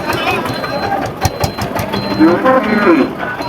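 A crossbred bull moos with a drawn-out, rising call amid the bustle of the Purapara cattle market, heard near and clear over steady crowd noise and people talking.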